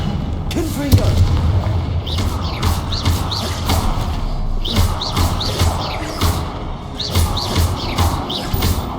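Confringo blasting spells explode in Hogwarts Legacy, a video game, as a string of heavy booms and crackling blasts at uneven intervals. Combat noise and voices run underneath.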